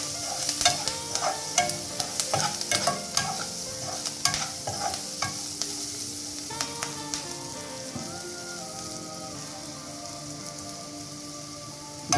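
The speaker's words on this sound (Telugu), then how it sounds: "దీంట్లోకి మనం ఒక చిన్న స్పూన్ పసుపు వేసి ఒక 10 సెకండ్స్ వేయాలి." Onions frying with turmeric in a pan, a loud continuous sizzle with rapid scraping and clinking stirring strokes at first, settling into steady crackling.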